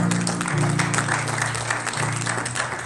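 A church congregation claps and cheers in acclamation of the Lord, a dense, steady wash of applause with voices mixed in, filling the room for a few seconds.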